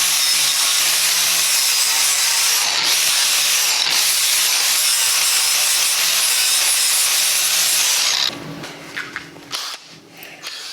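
A 40-grit, 1-inch flap wheel spun by a battery drill at roughly 1200 to 1500 RPM grinds a cast aluminum housing. Loud, steady abrasive rasping runs for about eight seconds, then breaks into short, uneven bursts.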